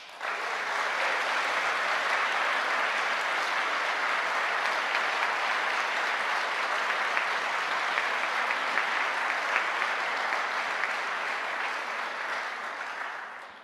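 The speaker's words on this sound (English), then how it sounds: "So if we could give them a big round of applause." A large graduation-ceremony audience gives lecturers sustained, even applause that stays loud and dense for over thirteen seconds before easing slightly at the end.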